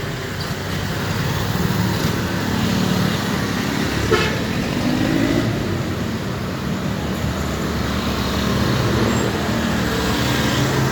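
Busy street traffic in the Philippines rumbles steadily and loudly, with car horns tooting now and then over the constant roadway noise of passing vehicles and buses.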